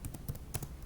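A handful of quick keystrokes on a computer keyboard as a ping command is typed into a command prompt, soft irregular taps, faint and close, with no speech.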